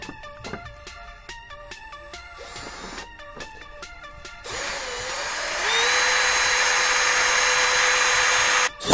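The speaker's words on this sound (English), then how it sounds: "Start drilling some holes." A power drill whirs in several short bursts, then runs in a long, steady, high-pitched spin before stopping, loud and close with no talking, drilling holes while installing a cool air intake on an E36 BMW.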